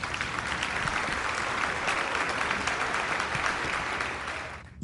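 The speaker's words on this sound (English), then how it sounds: "Your applause" Dense, steady applause from a crowd at a dolphin show in the game Atomic Heart, continuous clapping at even loudness that tapers slightly near the end.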